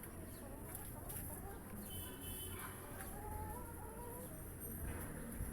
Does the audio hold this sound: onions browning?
no